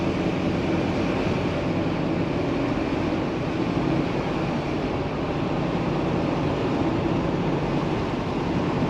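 Steady broadband road and tire roar fills the cabin of a 2017 Coachmen Freelander 26RS Class C motorhome under way, a constant moderate rumble with no talk over it.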